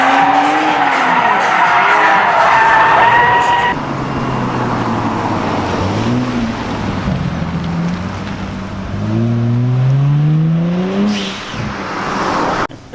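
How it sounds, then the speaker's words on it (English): Kia Stinger cars drifting on a car park drift track, tyres squealing in long wavering screeches over loud engine roar, heard from a distance above. "In the front car park was the Kia Stinger drift track."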